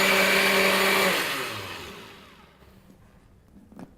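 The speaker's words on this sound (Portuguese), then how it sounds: "Com o nosso liquidificador." A kitchen blender running on a linseed smoothie for the gut, a loud steady whirring roar that winds down and fades to near silence, followed by a couple of faint clunks.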